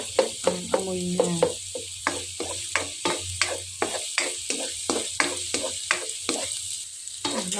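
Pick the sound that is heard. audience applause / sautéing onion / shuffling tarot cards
sautéing onion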